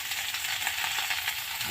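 Potatoes and cauliflower frying together in oil, giving a dense, continuous sizzle and crackle that stays loud and even for the whole short stretch, with no voices.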